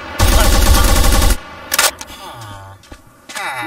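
Rapid burst of gunfire from a gun in a Minecraft creative-mode village raid, a loud dense volley lasting about a second, followed by a couple of shorter isolated shots and quieter game sounds.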